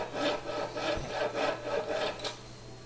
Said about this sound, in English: use whatever tools you want to cut the rough outline of the handle